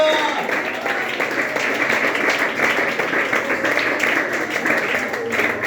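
Church congregation applauding during an energetic Spanish-language worship service, a dense sustained wash of clapping from a crowd, steady and loud throughout with voices mixed in.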